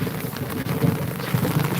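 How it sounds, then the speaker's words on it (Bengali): Heavy rain pours down steadily in a rural area of Phulbari, Kurigram, a dense, continuous rush of wide-band hiss with no voices. "আমাদের এখানে দেখেন প্রচুর বৃষ্টি হচ্ছে"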